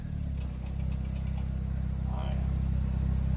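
Nissan 240SX engine droning steadily at a raised, near-constant speed, loud and close, with a faint voice briefly under the engine noise.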